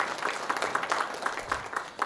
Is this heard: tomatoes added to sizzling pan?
no